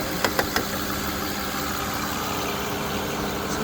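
Aston Martin DB9 6.0-litre V12 idles steadily up close with the bonnet open, a smooth continuous hum opened by a few light clicks.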